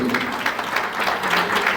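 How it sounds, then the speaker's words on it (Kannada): A hall audience at a lecture by a spiritual leader claps in a thick, even round of applause, close and continuous without voices. "ಈ ಚಪ್ಪಾಳೆ ಹೊಡಿದ್ರಿ"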